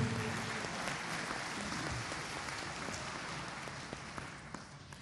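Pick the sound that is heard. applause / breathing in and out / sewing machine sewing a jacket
applause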